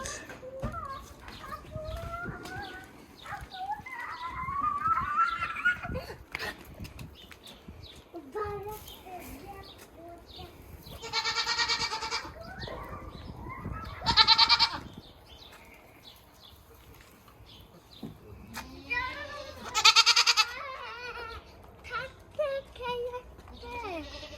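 Alpine dairy goats kept at home in a yard shed in Kyzylorda give several loud, short bleats amid scattered clucking, with people talking nearby throughout.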